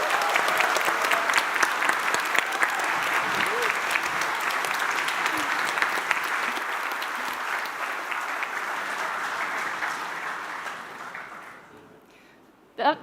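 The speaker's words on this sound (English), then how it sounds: "Can I get an applause for Helena and Eileen?" A crowd at an exoskeleton reveal event applauds two team members with loud, dense clapping that sustains for about ten seconds, then fades away, followed by a brief sharp burst at the very end.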